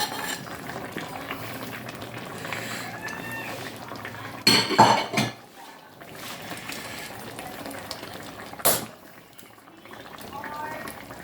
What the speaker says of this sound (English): Alright, I'm gonna add my potatoes. Irish or Idaho. I'm gonna add those in.